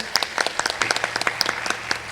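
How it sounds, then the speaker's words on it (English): A crowd applauds steadily, dense rapid clapping filling the whole moment with no voices on top. "So a huge round of applause for them"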